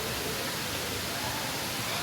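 A waterfall on Savai'i in Samoa keeps up a loud, dense, even roar of rushing water for the whole short stretch.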